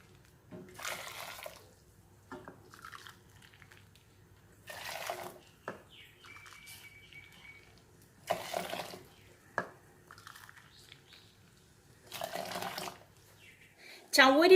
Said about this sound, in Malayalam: ഒരു പാത്രത്തിലേക്ക് ഞാൻ 5 കപ്പ് തിളച്ച വെള്ളം ഒഴിച്ചു കൊടുക്കുകയാണ്